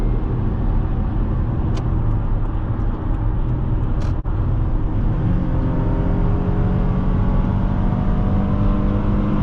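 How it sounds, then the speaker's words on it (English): A 2011 Lexus RX350 with three adults aboard accelerates hard on the road, its engine note climbing in a smooth continuous whir over tyre and road noise, with one short click midway. "you see it's accelerating like immediately"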